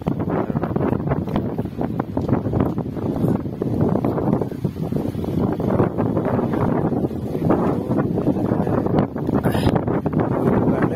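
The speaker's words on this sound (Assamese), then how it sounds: "বতাহ মাৰি আছে, আৰু ইফালে ৰ'দো আছে, বতাহ মাৰি আছে" Steady outdoor wind rushes and buffets continuously against the microphone at a shrine courtyard, a loud, unbroken roar without pauses.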